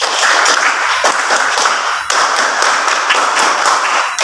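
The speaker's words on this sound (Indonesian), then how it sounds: "Tepuk tangan untuk kelompok 3" A classroom of students claps for a student group, dense continuous applause filling the room with a brief dip midway, loud and close with no talking.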